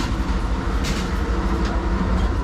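Steady low rumble of an Amtrak Superliner passenger train, the California Zephyr, rolling along the tracks through California, a continuous loud drone with faint rattling throughout.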